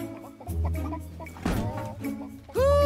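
Hens cluck in an animated Polish film trailer, a run of clucking calls rising over busy music and effects, ending in a loud sustained sound at the close.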